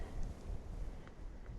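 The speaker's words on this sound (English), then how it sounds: "Extremely windy on the south rim." Strong wind buffeting the microphone on an exposed moorland rim at Kinder Scout, a low, rough, gusting rumble filling the whole brief moment with no voices.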